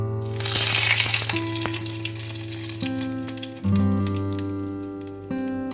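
Whole cinnamon pieces, cracked green cardamom and cloves hit hot oil for a prawn malai curry, giving a loud crackling sizzle that starts sharply, then settles into a steady frying hiss with faint stirring clinks.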